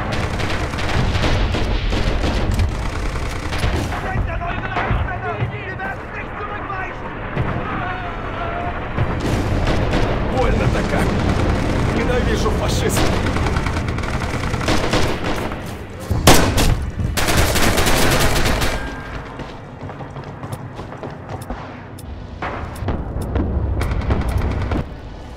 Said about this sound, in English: let's take E while the artillery is protecting